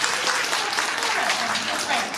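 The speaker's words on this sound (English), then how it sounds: "Can we clap for her for that?" A lecture audience at a talk on physical-world attacks on machine learning models applauds in a steady, dense wash of clapping that holds at an even level throughout.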